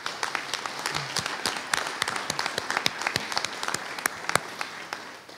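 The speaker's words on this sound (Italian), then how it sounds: "vi chiedo di rivolgere un applauso" Steady applause from the audience at an art exhibition opening, with many hands clapping at a moderate distance in a continuous patter and individual sharp claps standing out, tapering slightly at the end.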